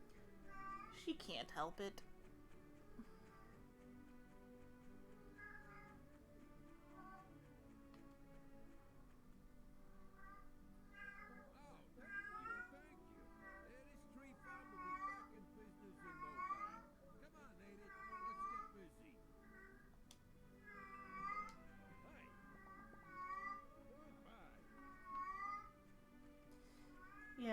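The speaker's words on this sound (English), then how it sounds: "Once again, I do apologize for the cat that is screaming" A distressed cat yowls and screams repeatedly in short, rising cries, fairly close but quieter than a person talking, while soft video-game music plays in the background.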